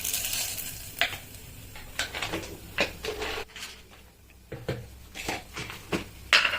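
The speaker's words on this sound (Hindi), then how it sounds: "तो गोटा मसला पके देबा तेल गरम होला परे" Whole spices, black pepper and bay leaf dropped into hot oil for vegetable pulao, a soft steady sizzle with scattered stirring and utensil clinks against the pan.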